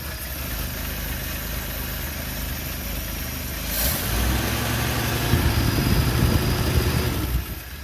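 A carbureted engine runs steadily after its fuel is primed. The low, even idle hum holds throughout and grows slightly louder and rougher partway through, close and with no talk.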